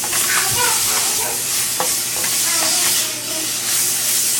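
Chicken sautés in a pan with a dusting of garlic powder, a loud, close, steady sizzle with a few scraping stirs and short soft bumps.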